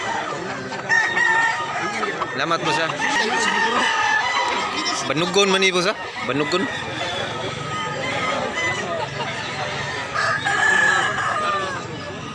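At a bustling rooster market in Mantalungon, Barili, Cebu, several roosters crow repeatedly and hens cluck, some calls close and loud, others farther off, over steady crowd chatter and people talking.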